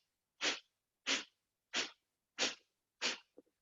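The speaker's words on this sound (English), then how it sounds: "If you want to try breath of fire, it's a quick exhale." Five quick, forceful breath-of-fire exhales in yoga, evenly spaced about two-thirds of a second apart, each a sharp breathy burst, close and clear with silence between, ending with a small soft sniff.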